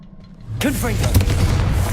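A Confringo spell blast bursts in Hogwarts Legacy: after a quiet start, a sudden loud boom hits and is followed by rolling rumbling blasts and sweeping tones with a little game chatter mixed in.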